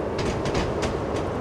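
An ÖBB 2016 electric locomotive running in a train simulator on the way to Innsbruck Hötting, giving a steady rumbling roll with rhythmic clickety-clack wheel beats over rail joints, heard from onboard with no talking.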